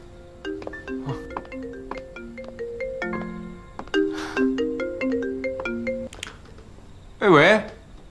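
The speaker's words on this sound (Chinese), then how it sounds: "我去给明修打个电话。" An outgoing phone call rings with a repeating electronic ringtone melody, close and clear, several cycles of tones, followed by a short sharp burst near the end.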